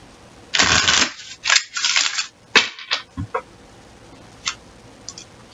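A deck of tarot cards being shuffled by hand, with several close, crisp riffling bursts followed by a few softer taps and flicks as the cards settle.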